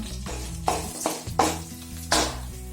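Washed red chilies drop into a hot pan of frying cashews, garlic, ginger and green chilies for a chicken curry. Several short bursts of hissing sizzle rise over a low steady hum.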